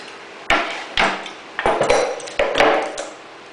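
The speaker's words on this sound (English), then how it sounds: "So that's how we pop off the flywheel." Sharp metallic knocks and pings as the flywheel is popped off an old OMC outboard motor from the 1950s to 1970s, several separate close strikes about half a second apart.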